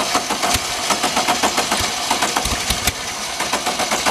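A dune buggy engine turns over and sputters as someone works the ignition, with rapid uneven chugging pulses running continuously at close range, loud and rough as it struggles to catch.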